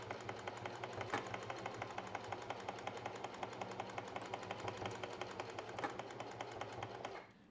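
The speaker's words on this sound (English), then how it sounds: "what I'm going to do is just sew down the seam line on each side" A sewing machine stitches down the seam line of a homemade maxi skirt's elastic channel, a quiet, fast, even chatter of needle strokes that runs steadily and then stops just before the end.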